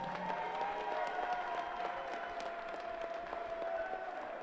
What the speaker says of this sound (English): Let's have a massive round of applause for both finalists.